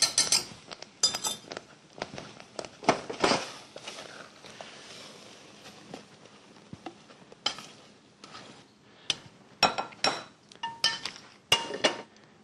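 Cooked custard pudding for a coconut cream tart being scraped and spooned into a bowl, with irregular bursts of metal utensils clinking and scraping against the cookware, close and sharp with quiet gaps between.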